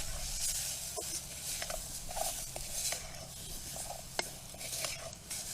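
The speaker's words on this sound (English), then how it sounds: "Give that a stir." Jambalaya stirred in a pot at an outdoor bushcraft camp: steady scraping and clinking of a utensil against the pot over a soft continuous sizzle, with a few sharper knocks, close and fairly quiet.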